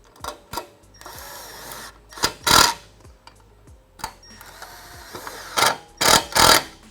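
Clicking and ratcheting as hose clamps and bolts are tightened on a heat exchanger being installed in a 2015-2017 Mustang GT, with close mechanical clicks and several louder bursts of tool noise spread across the clip.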